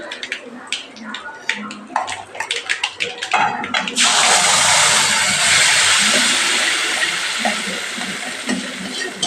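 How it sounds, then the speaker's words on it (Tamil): Tomato puree poured into hot oil tempered with mustard seeds and asafoetida for tomato thokku, first crackling and spattering seeds, then a sudden loud, sustained sizzle that slowly settles, with a voice talking underneath. "இப்போ அந்த தக்காளி இதை தூக்கி ஊற்றிக்கலாம்"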